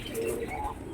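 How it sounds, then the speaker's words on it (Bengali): Pigeons in a cage giving a short, soft cooing call up close, a brief low murmur lasting about a second with no talk. "ভেতরে সেই পায়রা দুটো আছে"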